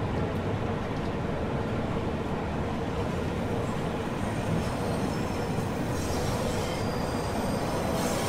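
A train in Dovetail Games Train Simulator runs along its route with a steady, loud rolling rumble of wheels on track. Wheel squeal rises over it, and no one speaks.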